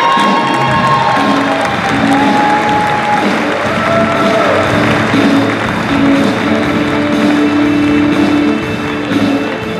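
Sustained applause and cheering from a banquet crowd at a Michigan small business awards dinner, steady and loud throughout as winners take their seats, with scattered whoops.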